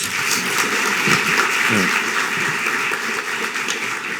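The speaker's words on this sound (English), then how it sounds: "So just please give them a round of applause." Audience applause at a community politics forum breakfast, a steady dense wash of clapping lasting throughout, moderately loud with crowd noise beneath.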